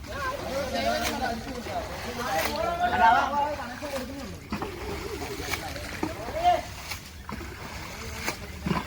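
Floodwater splashes and sloshes during the Kerala monsoon, with irregular watery surges and swishes heard under people talking close by.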